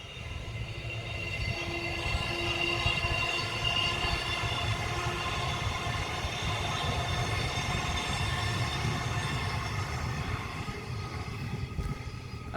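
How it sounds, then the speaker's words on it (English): A train passes along nearby tracks in Australia with a continuous rumble and a long, high, wavering squeal that sounds like a ghostly scream, holding steady and loud for the whole stretch. "But it just looks like a ghost screaming going down the track."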